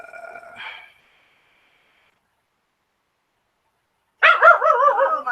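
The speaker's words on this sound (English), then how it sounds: "It's the dogs are barking." A short bark, a few seconds of silence, then a burst of several loud, close dog barks in quick succession.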